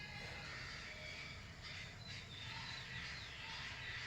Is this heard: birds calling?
yes